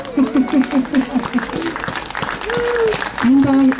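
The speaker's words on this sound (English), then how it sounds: "give her a clap please" An audience at a local civic gathering claps throughout, with loud voices calling and talking over the applause.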